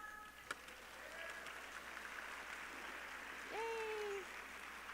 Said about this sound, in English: So everybody, let's clap.